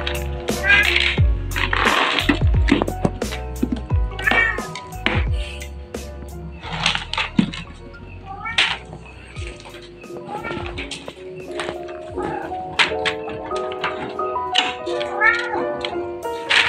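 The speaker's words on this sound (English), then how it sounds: "These cats" Cats meow repeatedly in short, sharp cries near fish being fed, scattered among light ticking and water sounds, with background noise throughout.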